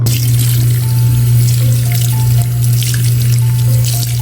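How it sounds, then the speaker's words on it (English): A tap runs steadily and loudly as water rinses through a 1988 Super Star Barbie doll's hair in a sink, a constant close splashing rush with no talking. "And just wash it right out."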